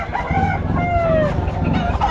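A rooster crows loudly and close by at a pet market, with a drawn-out rising and falling call, followed by short clucking over outdoor background noise.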